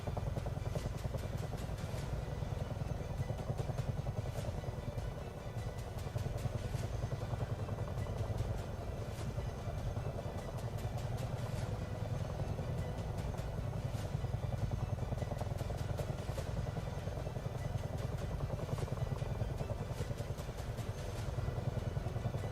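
A Miltech CH-47 Chinook tandem-rotor helicopter in the flight simulator game MSFS 2024, flying over Alaska, gives a steady, continuous low engine and rotor drone with a fast rhythmic chop, loud and unbroken throughout.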